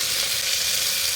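Tomato frying with salt in a pan, a close, steady hiss of sizzling that holds evenly for about a second with no talk.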